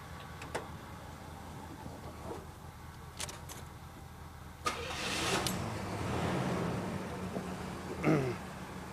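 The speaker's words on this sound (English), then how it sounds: "We'll start up the good vehicle and let the charging system send some electricity to this dead battery" A car engine cranking and starting to jump-start a vehicle with a dead battery, preceded by a few faint clicks, then a crank and catch settling into a quiet idle.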